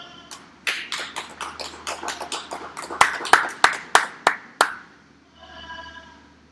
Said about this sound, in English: let's go ahead and give all these guys a nice round of applause